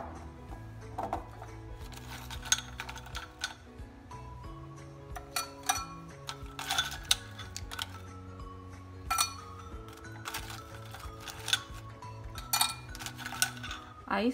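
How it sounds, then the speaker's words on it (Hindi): Ice cubes dropped into glasses for a soda mojito make sharp, scattered glassy clinks and knocks, quiet and irregular, spread through the stretch with no talk. "अब हम इसमें आइस डालेंगे।"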